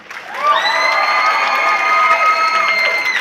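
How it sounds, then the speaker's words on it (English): A crowd at an opening ceremony cheers and claps loudly for the staff and volunteers, with high sustained shouts and whoops, children's voices among them, over steady applause. "Give them a big round of applause."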